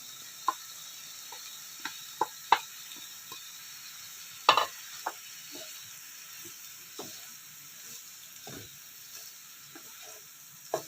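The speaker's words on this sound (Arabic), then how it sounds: "كده خلاص هنحط الفراخ بتاعتنا" Pieces of chicken fillet sizzle in a pan with a steady soft hiss, dotted with sharp pops and spatters.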